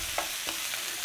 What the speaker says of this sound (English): So it's a nice little sizzle on there.